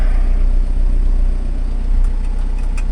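Hay equipment engine runs close and loud in a field, a steady low droning idle that holds level throughout with no clear rise, no voices.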